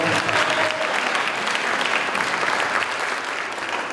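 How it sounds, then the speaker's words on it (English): Steady, dense applause from a school concert audience for the percussionists, loud and sustained, fading slightly toward the end. "extend a round of applause for both of our percussionists that are trading"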